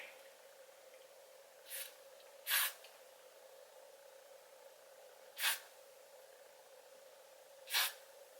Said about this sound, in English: now I'm going to use the Got2b spray